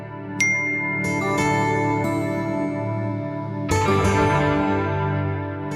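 A phone chimes with a short message notification tone, a bright ding ringing out over steady background music in an indoor drama scene, followed by a second layered chime.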